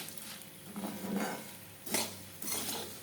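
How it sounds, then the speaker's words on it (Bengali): Puffed rice is dry-fried in a little oil in a pan at home: soft stirring and scraping against the pan come in short bursts, fairly quiet, with no one talking. "এই শুকনো তেলের মধ্যে মুড়িটাকে ভেজে নেওয়া আর কিছুই না, মুড়িটা দিয়ে ভেজে নিই"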